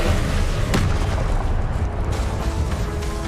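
Spell-casting blasts from the video game Hogwarts Legacy, a dense sequence of booming magical impacts and bursts with one sharp crack early on, loud and continuous without spoken words.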